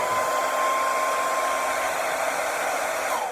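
A hair dryer blows steadily at close range, a constant loud whooshing hum with a faint whine, no voices.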